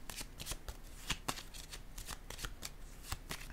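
Tarot cards are shuffled close by, a soft, quick rhythmic riffle of flicking card edges with light pulses throughout, quiet and without talking.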